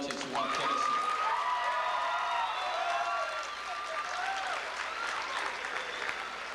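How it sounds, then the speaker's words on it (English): High school graduation crowd claps for parents and relatives, a thick sustained wave of applause with a few cheers, while music with sliding tones plays over it. "give a round of applause to our parents and our relatives who helped get us here"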